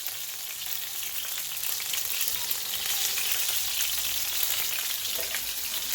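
Spicy chicken wings fry in a pan of spattering oil, a steady bright sizzle with crackling pops that swells a little louder midway, no voices over it.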